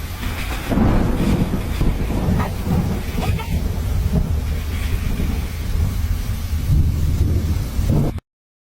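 A storm over the hill country: dense, steady heavy rain with low rumbling thunder and wind buffeting, loud and continuous throughout before cutting off abruptly.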